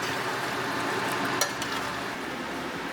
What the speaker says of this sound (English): Mix it well again.